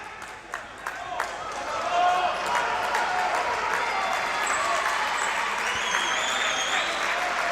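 Crowd applause at a Serie A volleyball match in Italy, Benevento against Treviso, greeting returning player Lolo Suazo, a steady wash of clapping swelling and holding throughout, with a commentator talking over it.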